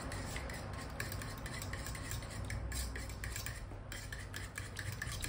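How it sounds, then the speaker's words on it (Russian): A fork stirs khachapuri batter in a bowl, a quiet, close run of quick repeated scraping and clinking strokes against the bowl, with no talking. "Также это перемешиваем."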